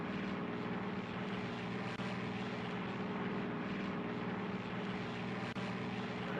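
A propeller aircraft engine drones at a steady, even pitch in the World War II flight game Air Conflicts: Secret Wars, quiet and continuous with no voices.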